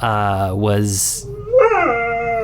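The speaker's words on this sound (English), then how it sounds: "my dog Sadie is singing the Song of Her People in the background" A dog howls in a long, rising and falling wail that carries over and alternates with a man's speech, its mournful tone loud and sustained through most of the moment.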